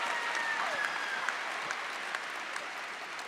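At a Corvallis High School graduation ceremony, the audience breaks into sustained applause, a steady wash of many hands clapping heard at a moderate distance, with a few sharper claps standing out.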